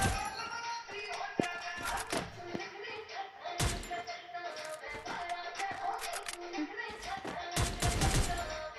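Rapid gunfire from Free Fire hammering at a gloo wall, dense bursts of shots and sharp impacts repeating in quick volleys throughout, loud and close under game sounds.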